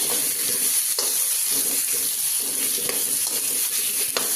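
Garlic stir-frying in a pan on an electric stove for a pumpkin and egg stir-fry gives a loud, steady sizzle with a few soft stirring knocks and no voices.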